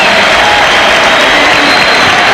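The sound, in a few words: arena crowd applause for Derek Harper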